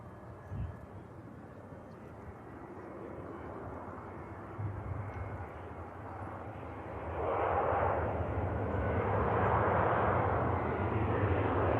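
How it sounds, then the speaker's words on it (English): A Lufthansa A320 airliner landing at Manchester Airport after a flight from Frankfurt, its broad engine roar building steadily and growing louder toward the end, with some faint talk underneath. "Next to landing from Frankfurt, Lufthansa A320."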